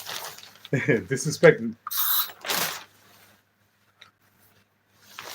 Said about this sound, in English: disinfectant spray, I'll just spray the bag lightly.